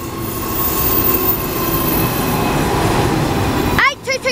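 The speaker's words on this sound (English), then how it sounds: "We got a freight train." A Pacific National freight train rumbles steadily past at close range, a continuous loud roar of rolling wagons with a faint tonal hum, ending in sharp wheel squeals near the end.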